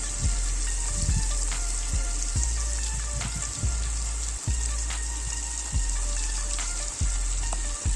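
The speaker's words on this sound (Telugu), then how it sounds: "ఒక్కొక్క పీస్ను ఈ విధంగా ఆయిల్లో వేసుకొని మంచిగా కాలేంత వరకు కలుపుకోవాలి" Fish pieces frying in oil, a continuous close sizzle like light rain, punctuated by periodic knocks of stirring against the pan.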